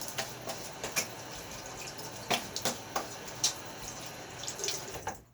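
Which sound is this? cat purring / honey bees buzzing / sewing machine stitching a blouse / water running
water running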